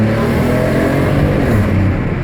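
Alfa Romeo 156 3.0 with a sports performance exhaust accelerating hard, a loud close engine roar climbing steadily in pitch through a short full-throttle pull, heard alone without talk.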